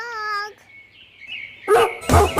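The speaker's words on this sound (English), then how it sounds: "D for dog." A dog barks twice, loud and close, following a whining, whimper-like tone, in a children's alphabet song for the letter D.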